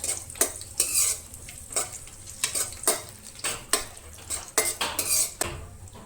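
An ingredient is lightly roasted in a pan for Goan sweet rice, with a metal spoon clinking and scraping against the pan in a quick, irregular rhythm over a soft continuous sizzle, close and clear without talk.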